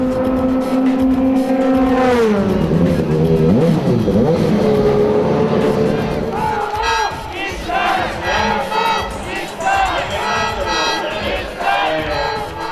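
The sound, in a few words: Nissan GT500 GT-R race cars doing demo laps before crowd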